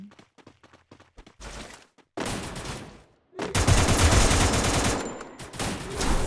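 Gunfire in the mobile shooter Free Fire: quick single shots at first, then loud sustained bursts of automatic fire that cut off and resume, close and dominant with no speech.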